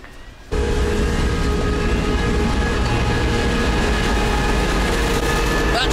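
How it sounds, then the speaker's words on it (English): A train at Grodno station in Belarus at night: a loud, steady rumble and hiss that swells in after a short quieter moment and carries on unbroken to the end. "there's a train leaving for Lida, the last train of the night, in 20 minutes"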